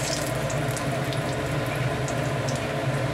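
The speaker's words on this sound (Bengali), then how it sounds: "এবার ফোড়ন দিচ্ছি। ফোড়ন হচ্ছে 5 ফোড়ন আর জিরে, গোটা জিরে, লঙ্কা" Whole spices, five-spice mix, cumin seeds and chilli, tempering in hot oil in a pan, giving a soft steady sizzle and bubbling hiss at a moderate distance, without speech.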